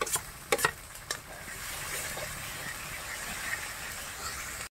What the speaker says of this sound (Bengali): এখন কিন্তু আমরা সেই টমেটোর যে পেস্টটা করে নিয়েছিলাম ওটা দিয়ে দেবো, দিয়ে এটা একটু ভালো করে ভেজে নিতে হবে।